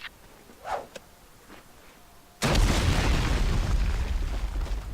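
Explosive potato grenades go off in a sudden loud blast after a quiet stretch with a few faint sounds, followed by a sustained roaring, crackling rumble that slowly tails off.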